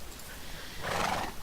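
A horse whinnies in a video game while the rider gets it out into open ground, a fairly loud neigh rising about midway and holding for roughly half a second over quiet background.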